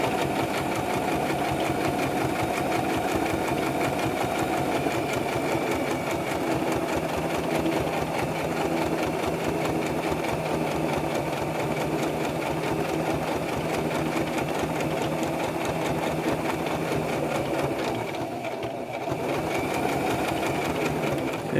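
A sewing machine runs steadily, stitching cloth for a fish plushie, its fast even needle clatter and motor hum loud and close, pausing briefly near the end before resuming.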